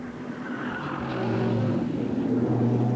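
GT production race cars in the 1996 Wellington street race, running along the wharves in the closing stages: a continuous loud engine roar that builds slightly, with steady tonal drone and no talk heard.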